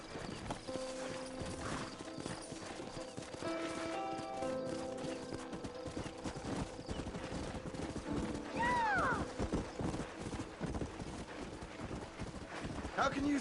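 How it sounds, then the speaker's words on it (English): Horses in the video game Red Dead Redemption 2, with rhythmic hoof clip-clop and a whinny near the middle, heard under game music and people talking throughout. "Horses are over here!"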